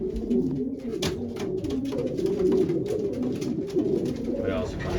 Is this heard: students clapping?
no